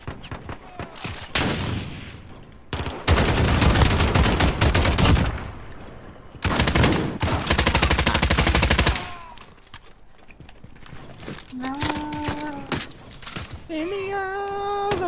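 Rapid automatic gunfire from Call of Duty Modern Warfare multiplayer, loud dense bursts in two long stretches with shorter volleys between, followed by game beeps and tones as players talk over it.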